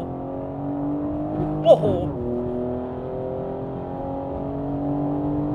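Inside a BMW M4 on a public road, a steady tonal engine hum drones with a brief shift in pitch, while a man gives a short excited exclamation over it partway through.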